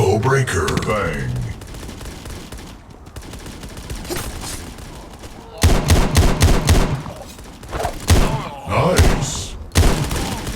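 Pistol fire in the mobile shooter Guns of Boom, a pistol-only brawl match: bursts of sharp, loud shots come in quick clusters, with busy game sounds between volleys and a short quiet stretch midway.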